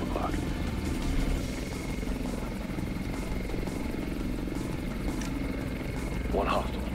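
A helicopter in the tactical shooter game Ghost Recon Future Soldier, a continuous rotor drone sitting under game sounds and mixed audio for the full stretch.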